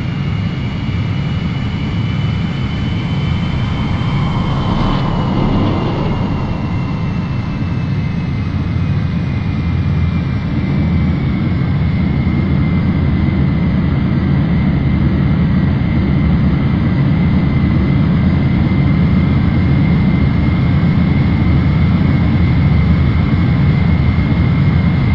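Aircraft engine in the video game Ace Combat 3 as a plane comes in to land, a loud, steady roaring drone with a slowly shifting whine, continuous throughout with no talking.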